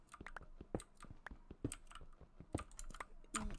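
Computer keyboard typing, irregular quick clicks and clacks of keys pressed close to the microphone, quiet and alone with no talking.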